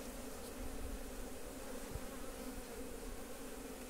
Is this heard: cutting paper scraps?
no